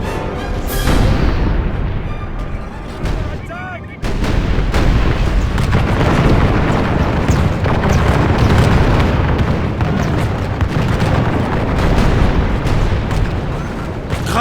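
Cannon artillery and line infantry firing in a Medieval II Total War battle, a dense, loud barrage of booming blasts and crackling volleys rolling on continuously after a brief whistling lead-in.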